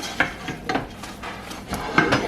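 A spoon scrapes and knocks against a pot as a milk mixture is stirred on a stove over medium heat, made from raw cow's milk for butter; several irregular clinks and scrapes, close and moderately loud, with no talking.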